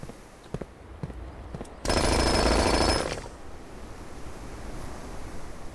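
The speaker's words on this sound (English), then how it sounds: "I don't think I've ever actually dug up any food with the jackhammer." A jackhammer digs in the video game Blue Prince, a loud dense rattling burst lasting just over a second, standing out between quieter stretches of faint ambient sound and small clicks.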